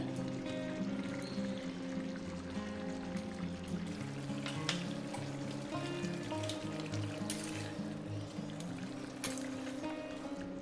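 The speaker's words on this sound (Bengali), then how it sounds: "দিয়ে আমি চিকেনটা কষতে থাকবো ভালো করে যতক্ষণ এর থেকে তেল ছাড়ছে" Chicken cooking in a pan with ginger garlic paste gives a steady, soft sizzle and bubbling under a constant low tonal hum, with faint clinks scattered through and no speech.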